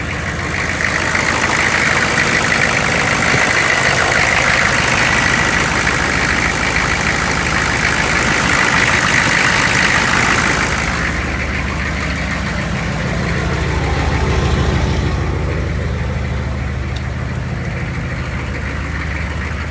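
A diesel engine on a GSC L runs steadily after an alternator replacement, giving a loud, continuous close-up rumble with a brighter whine that drops away partway through, then a lower idle that swells again.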